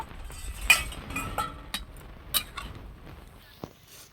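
A lid taken off a cooking pot of boiling papaya, with a few sharp metallic clinks and clatters spread across the moment, fairly close and otherwise quiet.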